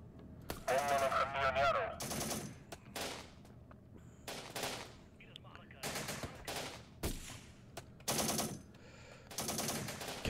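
Bursts of enemy machine gun fire in the war strategy game Syrian Warfare, a hostile Daesh MG crew shooting in repeated rattling volleys, loud and close with short gaps between bursts, and someone talks briefly between them.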